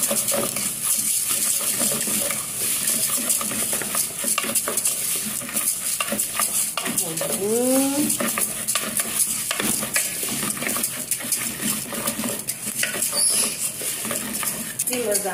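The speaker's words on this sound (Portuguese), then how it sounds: "Agora vou colocar meu arroz, meus amores." Rice stirred and frying in a home kitchen pan gives a steady, dense sizzle with scraping and rustling from the spoon throughout, close up, with no one speaking.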